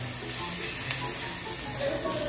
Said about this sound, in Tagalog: Yan, lagay na natin ang luya. Gisa rin ho natin yan.